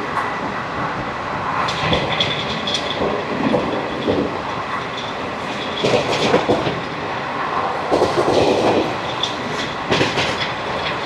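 The Circar Express runs along the tracks near Dwarapudi station, giving a loud, close, continuous rumble with rhythmic clickety-clack wheel beats and occasional metallic bursts from the rolling wagons, with no voices.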